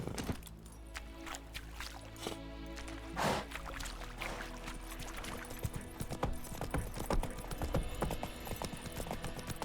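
Horse hooves clip-clopping steadily as a rider travels in The Witcher 3 video game, a continuous rhythmic trot over a busy game soundscape with faint ambient tones.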